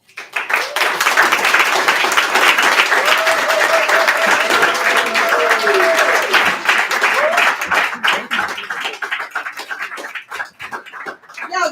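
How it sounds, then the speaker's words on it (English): Loud, sustained applause from a crowd at a poetry event, dense clapping that swells early, holds steady, then thins into scattered claps toward the end. "give another warm round of applause"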